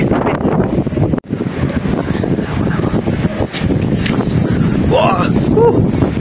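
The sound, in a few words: strong wind and heavy rain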